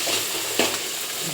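Tomato, salt and spices sizzle as they are sautéed in a pan for a potato kurma, a steady close hiss broken by a single quick scrape of the stirring spoon midway.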